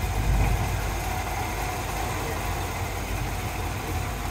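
A 1956 Chevrolet 210 with a 327 V8 and mild cam idles steadily nearby, a deep, even rumble with a slight lope that holds at constant loudness throughout with no voices.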